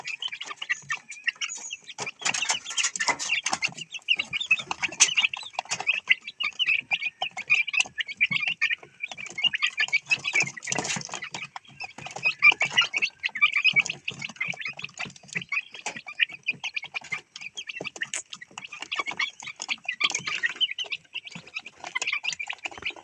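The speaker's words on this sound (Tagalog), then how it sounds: "mga manok ko" A flock of 37-day-old chicks on a farm peep and cluck continuously, a dense, busy chatter of many small birds heard close for the whole stretch, with no voices over it.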